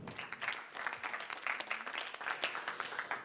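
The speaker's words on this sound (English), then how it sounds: "Applause." A small audience at a talk claps briefly, a quiet, scattered patter of hands lasting a few seconds.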